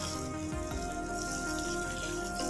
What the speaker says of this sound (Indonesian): Jadi disiram oleh 10 liter air ini